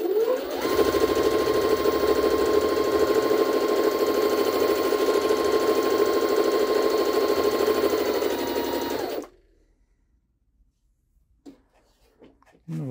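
A Jaguar SJ-23 sewing machine runs a straight stitch through organza, a loud, even motor drone for about nine seconds that stops abruptly, leaving near silence and a few faint handling clicks.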